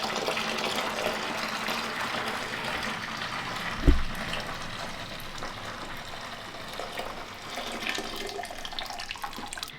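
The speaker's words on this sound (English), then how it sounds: "now I'm going to go ahead and transfer it over to the big bucket so it can cool down a little bit quicker" Thanksgiving turkey brine pours steadily into a big bucket, a continuous close liquid rush with one brief louder splash partway through, no talking.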